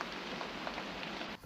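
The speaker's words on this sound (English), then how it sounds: "Just a very simple rain." Simple rain ambience for a lo-fi track: a steady, soft hiss of rainfall on surfaces, faint and even, cutting off abruptly at the end.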